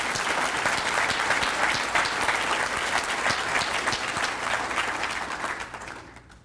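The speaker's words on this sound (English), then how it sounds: "So Kevin Ozzie, let's give him a round of applause." An audience at a State of the District address claps loudly and steadily for several seconds, a dense wash of hands that thins and fades out at the end.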